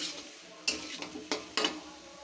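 Potato curry sautés in a pan, soft sizzling underneath three or four distinct scraping strokes of a spoon stirring through the thick mixture, close and fairly quiet.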